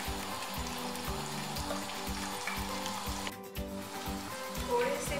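Onions frying in a pan while a home cook prepares tinday gosht, a steady close sizzle with pulsing bubbling that runs the whole stretch, a brief clink partway through, and no talk over it.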